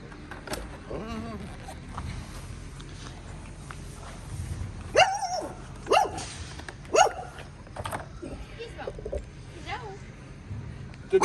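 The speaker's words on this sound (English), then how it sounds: "Stupid dog." A dog barks in short, sharp bursts at a boatyard during boat bottom painting, the barks spaced a second or so apart, moderately close and punching above quiet background noise, with some talk in between.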